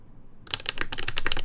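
Fast typing on a mechanical keyboard built with linear switches and ABS double-shot keycaps: after a short quiet start, a rapid, close run of crisp clacks follows, with no voices.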